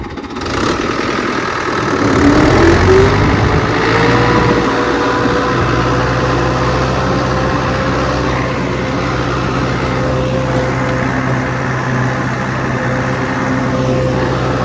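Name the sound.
Fiat 640 tractor engine revving with disc harrow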